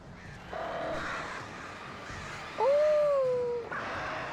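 Attacking birds caw in the video game Alan Wake, one drawn-out, fairly loud cry standing out briefly over a steady low game ambience.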